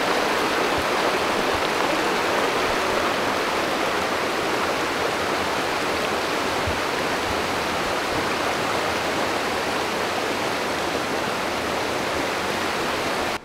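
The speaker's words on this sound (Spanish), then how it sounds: "Aquí tenemos ya el río Pas, una vez que el Ruyemas le entregó sus aguas." The Pas river flowing past the village of Pandillo in Vega de Pas, a steady, full rushing of water that fills the whole scene, close and unbroken, with no voices.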